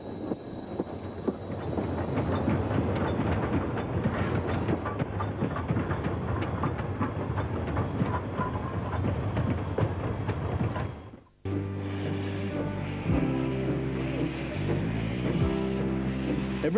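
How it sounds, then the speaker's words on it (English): Steam train in Victoria's Dandenong Ranges running steadily on rails just after leaving a tunnel, a dense continuous rumble and clatter that cuts out briefly before a steadier, more tonal mechanical run resumes. "Coming out of the tunnel, we announce ourselves with a fanfare of steam."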